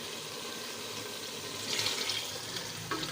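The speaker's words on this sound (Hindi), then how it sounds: "ये 3 गिलास हमने पानी ऐड कर दिए हैं।" Water from glasses is poured into a pot of chana pulao over fried rice and chickpeas, a quiet steady splashing and trickling with a brief louder burst partway through.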